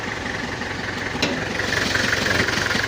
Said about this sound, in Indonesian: Untuk suara mesinnya ini adem, ringan, enteng, nggak terlalu kasar, halus